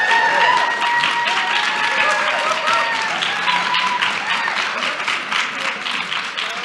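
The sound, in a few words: audience applause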